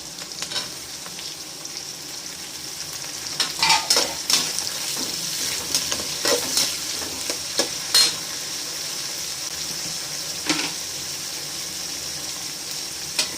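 Tomatoes and small onions frying for a Tamil chicken gravy: a steady, fairly loud sizzle with a run of clattering ladle-against-pan stirring strokes, close by.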